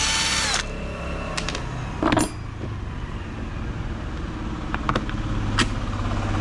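A power tool backs four screws out of a brush cutter's throttle lever assembly during a repair. A steady motor whir is broken by several short, sharp whining bursts, all close up.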